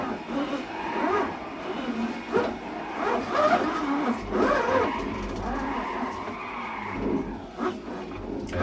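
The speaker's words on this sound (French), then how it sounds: "Allez, on va essayer de faire du drift." A car drifts in a racing video game driven with a Thrustmaster T500RS wheel, steady engine revving with tire squeal and skidding surges, moderately loud and continuous.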